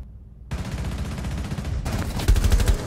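Rapid automatic gunfire in the video game Rainbow Six Siege, tight bursts of sharp shots following a brief quiet start, loud and close, with the last burst hitting hardest.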